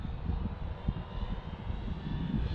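An FMS Pitts 1400mm RC plane glides in with its throttle cut, a steady, fairly loud airy rush of wind and soft low motor whir carrying through the whole stretch with no talk over it.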